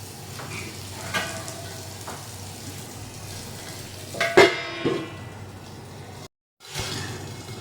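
Kai fish with green chilli fries in mustard oil over a gas flame, a steady low sizzle with a few louder clunks of pan handling and a brief silent gap before the sizzling resumes.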